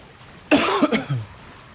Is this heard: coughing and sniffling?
yes